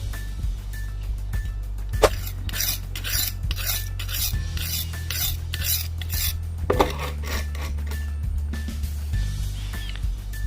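Kudampuli (Malabar tamarind) fruits broken open by hand, giving close, repeated crisp cracks and rustling rasps in an irregular rhythm over a steady low hum, with no talking.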